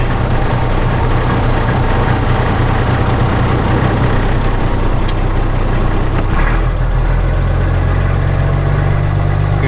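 A Mack PT2 truck engine, its air compressor worn, runs at a loud, close, steady diesel idle with a deep rumble and a brief change in tone partway through.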